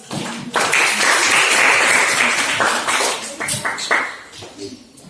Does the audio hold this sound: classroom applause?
yes